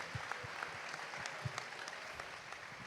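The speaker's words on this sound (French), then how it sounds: "on les applaudit bien fort" Audience applause for a group of Spanish participants at a live event, a steady wash of clapping with scattered sharper claps over about three seconds, moderately close, no talk.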